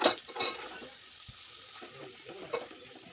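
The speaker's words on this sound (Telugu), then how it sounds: "ఒక టూ త్రీ టేబుల్ స్పూన్స్ కారం వేసేసి మంచిగా కలిపేసుకోవాలి" Chili powder being stirred into okra stew in a pan, a soft scraping and sizzling with a few spoon clinks near the start, fairly faint and without talk.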